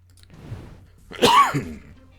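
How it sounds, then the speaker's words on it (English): A single loud, harsh cough bursts out after a quiet stretch of faint background murmur, close to the listener. "Had a cough right in between"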